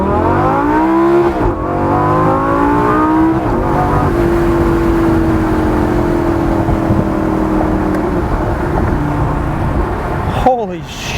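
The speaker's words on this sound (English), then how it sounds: "as soon as they choose to open is when the exhaust truly screams" Lamborghini Gallardo LP560-4 Spyder with 552 horsepower accelerating hard in first gear in Corsa mode, loud close exhaust roar climbing through revs with an upshift and a brief lift near the end.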